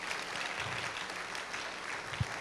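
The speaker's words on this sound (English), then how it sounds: "Could we give them a hand clap of appreciation also" An audience gives a steady round of applause, a faint, even wash of many hands clapping from a distance with no pauses.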